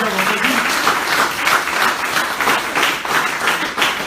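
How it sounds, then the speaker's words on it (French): An audience applauds at a political rally, dense sustained clapping that stays loud and even for the whole stretch with no voice over it. "incarnée par Julien, que je vous demande d'applaudir pour tout ce qu'il fait au quotidien dans sa vie"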